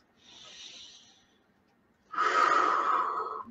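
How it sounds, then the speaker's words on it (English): Slow deep breath during meditation: a soft, airy inhale, a short pause, then a louder, fuller exhale close to the microphone, with no talking. "Nice deep breath"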